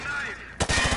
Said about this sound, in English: Oh, I just shot a civilian.